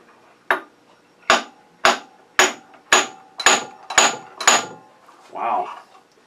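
A hammer taps a turned wooden medallion ornament to knock it loose, eight sharp, evenly spaced knocks ringing close and loud, followed by a brief muffled voice.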